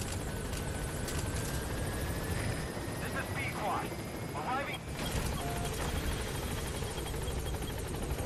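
Helicopter in Metal Gear Solid V: The Phantom Pain arriving at a landing zone, a steady dense rotor and engine drone filling the whole clip with faint game voices and effects over it.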